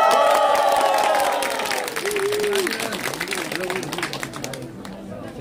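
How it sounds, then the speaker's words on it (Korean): A crowd at an outdoor political rally in Amsa Market, Gangdong, Seoul, claps and cheers loudly at first, then the noise settles into crowd murmur as a voice speaks over it. "박수 한번 해주세요."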